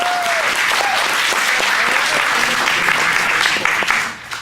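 Audience applause for debate contestants at a 2019 school debate event, steady loud clapping throughout before tapering off at the end.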